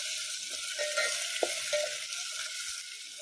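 Chopped tomato sautéing with golden-fried onion in a pan while dried field bean pod (val) bhaji is cooked, giving a steady close sizzle broken by soft stirring scrapes and a few sharper clinks.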